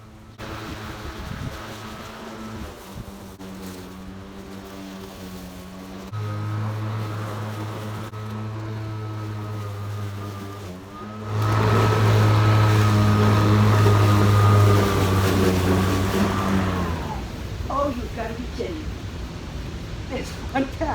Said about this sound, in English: let's go mow the lawn